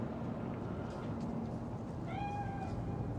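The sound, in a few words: cat spirit meowing, from the video game Cyberpunk 2077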